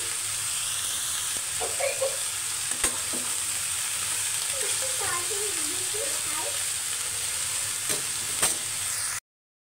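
Shredded cabbage sizzling steadily in hot mustard oil in a pan, with a spatula scraping and stirring through it at close range; faint voices murmur in the background before the sound cuts off.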